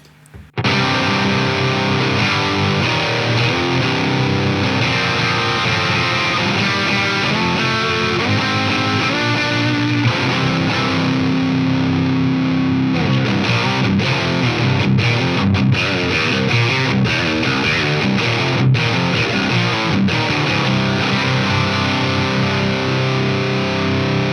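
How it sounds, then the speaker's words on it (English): A heavily distorted electric guitar played through a distortion pedal into an amp plays loud sustained chords and riffs, with a thick saturated tone continuing throughout. "If I throw on the distortion now"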